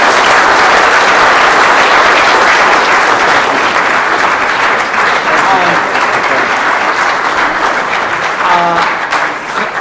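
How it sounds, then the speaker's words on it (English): A large audience gives a big round of applause for a debate panel on saving the UK, loud and sustained throughout and fading slightly at the end, with a few faint voices mixed in. "A big round of applause"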